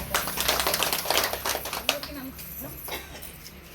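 An audience clapping at a charity event for elderly people, brisk crowded applause that peaks and then tapers off, with a voice heard faintly amid it.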